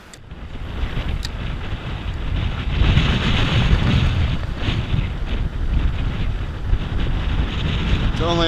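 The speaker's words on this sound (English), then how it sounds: "It's only a little bit windy out here." Steady wind buffets the microphone while kayak fishing on Florida water, a loud continuous rushing roar that builds after the opening second and holds with no break.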